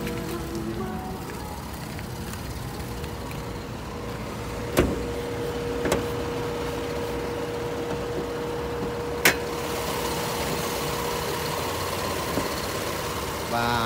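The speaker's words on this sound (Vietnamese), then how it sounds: "Và đây là khoang động cơ của chiếc Toyota Camry các bạn nhé." A Toyota Camry 3.0 automatic engine idles with the bonnet open, giving a steady, even hum broken by a few sharp clicks.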